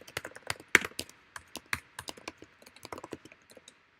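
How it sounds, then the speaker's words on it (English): Rapid, uneven clatter of keys on a computer keyboard, close and fairly crisp, with a few harder strikes mixed into a steady typing rhythm. "If my typing sound is too noisy, I'm sorry if it is."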